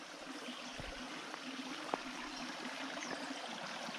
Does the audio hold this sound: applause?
no